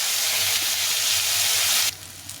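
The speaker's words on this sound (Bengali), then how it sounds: "তেলটা গরম হয়ে গেছে, এখন করলাগুলো ভেজে নেব।" Bitter gourd rubbed with salt and turmeric sizzles steadily in hot oil, a continuous close hiss that drops abruptly near the end. No one speaks.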